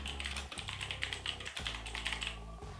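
Keys tapped on a computer keyboard in quick, steady bursts with short pauses, close and fairly quiet, with no voices.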